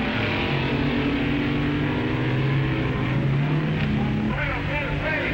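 The Dragmaster drag racing car and a rival roar at a drag strip, a loud continuous engine drone with rising pitch as they accelerate, steady and near throughout.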